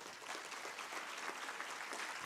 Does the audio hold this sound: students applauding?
yes